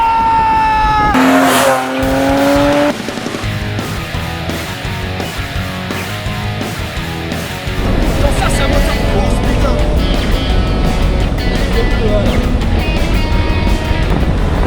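BMW Z3M convertible with a big engine in a small car, accelerating hard with tire squeal and engine roar, loud and close throughout, with a rising whine early on and sustained engine noise after.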